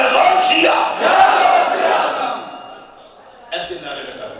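Large crowd at a religious gathering roaring the Nara-e-Haidari slogan in unison, a loud massed shout that fades, then a second burst of voices rises.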